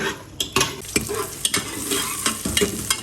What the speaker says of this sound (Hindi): इसको स्लाइस कट कर लिया। इसको लाइट ब्राउन कर लेंगे।